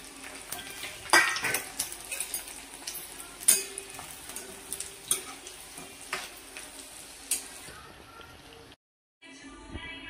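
Vegetable manchurian balls fry in a pan with a soft steady sizzle, broken by several sharp clinks of a spoon or utensil against the pan, close and fairly quiet, ending in a short silence.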